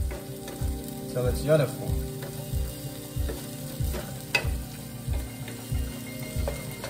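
Shallots and ginger stir-fried in a pan, a steady sizzle cut by regular scraping strokes of the spatula about twice a second, close and fairly loud, with a brief spoken remark over it.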